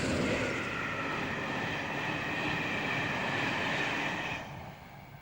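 A Class 225 train hauled by a single locomotive rushes past, a loud, steady roar of rolling wheels and wind with a droning tone that holds, then drops away quickly as the train clears.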